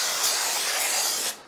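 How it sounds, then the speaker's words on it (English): A continuous aerosol spray of brake cleaner from a can hisses loudly onto car brake parts for just over a second, then cuts off abruptly. "just use a can of brake clean"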